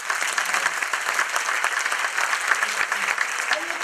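Audience applauding flamenco dancer Anne Guidicelli at a 2015 flamenco show, dense steady clapping filling the room for about four seconds with a faint voice or two beneath.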